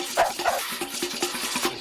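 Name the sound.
dog barking at a crocodile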